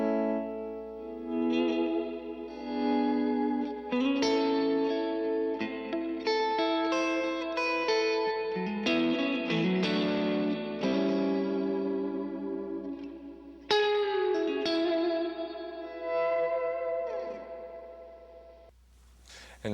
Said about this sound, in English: The next setting is hall reverb.